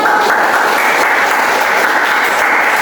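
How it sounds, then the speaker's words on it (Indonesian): Steady, dense applause from a group of people, loud and even, continuing without a break. "Tepuk tangan."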